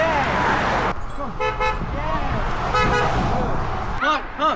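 Passing cars on a roadside honk their horns in several short toots, spread across the stretch, amid loud shouting and cheering voices and steady traffic rumble.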